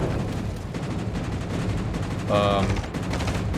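Rapid gunfire from ships in a naval battle video game, a dense continuous barrage of shots with a brief brighter burst near the end, with faint talk underneath.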